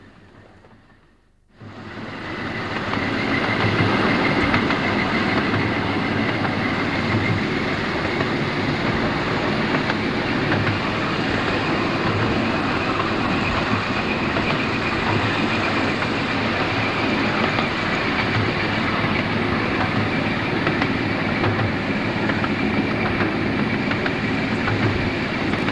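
A train runs past continuously after a quiet start, a steady loud rumble of engine and wheels with faint clickety-clack throughout.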